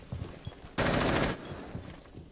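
Gunfire during an esports video game match: a single loud burst of rapid automatic shots lasting about half a second, standing out sharply against quiet game ambience with no talk.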